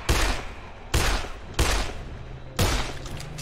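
Four sharp rifle shots in the video game Dead Island, each a loud crack with a short decaying tail, spaced unevenly about a second apart.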